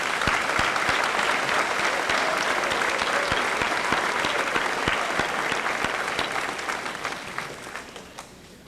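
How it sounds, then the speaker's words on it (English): A crowd at a high school senior assembly claps steadily in sustained applause for the underclassmen that gradually thins and fades toward the end. "let's give the underclassmen a nice round of applause"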